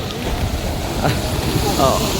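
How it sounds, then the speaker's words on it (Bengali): Waves surge where the Gomati river meets the Arabian Sea at Dwarka, making a continuous loud rush of water mixed with wind buffeting the microphone. "ঢেউ দেখতে পাচ্ছেন"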